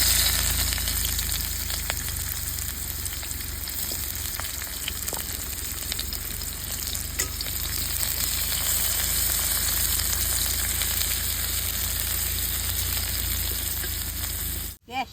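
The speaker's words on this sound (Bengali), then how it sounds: "এখন তেল দিয়ে পেঁয়াজটি ভেজে নেব।" Onion frying in a small amount of oil in a hot kadai, cooked for dahi bhindi: a steady, even sizzle that runs close and continuous with a few faint clinks, then cuts off abruptly at the very end.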